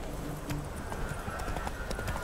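Roach the horse trotting in The Witcher 3, with steady hoof clip-clops over a dense bed of game ambience and rustling noise.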